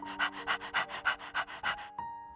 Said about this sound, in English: Out of the fog runs Pup, the dog